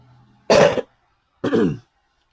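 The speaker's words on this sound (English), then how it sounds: "I'm going to cough for a second" Two short, harsh coughs about a second apart, close and loud, against near silence.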